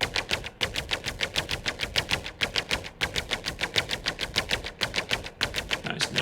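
Noisy synthesizer loops from the Zebra Lazarus soundset, a steady stream of fast, harsh rhythmic bursts repeating evenly at close range, dense and bright with no talking.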